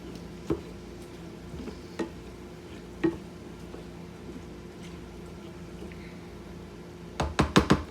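Ground turkey simmers in a pan with taco seasoning and water, giving a low steady sizzle broken by a few soft utensil taps and a quick cluster of knocks near the end.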